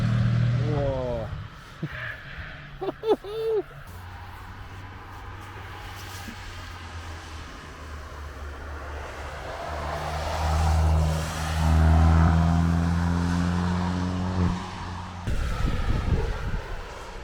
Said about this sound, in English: listen to some cars, and see some cars go around fast around the Nürburgring in the wet